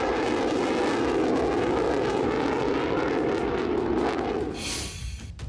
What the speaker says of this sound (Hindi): आखिर कैसे फाइटर जेट की आवाज नसरल्ला का काल बन गई